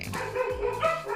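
A dog barks in a short burst of two or three loud, close woofs indoors, apparently at another dog passing on the street outside.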